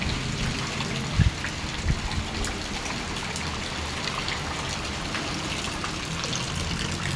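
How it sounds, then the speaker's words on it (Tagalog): Steady, dense heavy rainfall hisses evenly throughout in Cabiao, Nueva Ecija, Philippines, with a couple of brief low thumps early on and no voices. "Kasi wala nang lubayang ulan eh."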